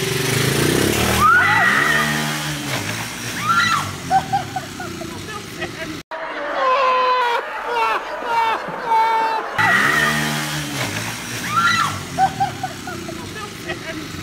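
A motorcycle ridden by a nervous learner on grass, its engine droning and revving unevenly under steady excited talk and shouting from a woman and a man.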